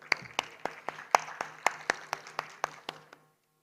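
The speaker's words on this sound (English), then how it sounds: "Can we give him a round of applause, please?" Sparse applause at a summit: roughly a dozen separate, sharp claps from a few people, spaced evenly and fading out before ending in silence.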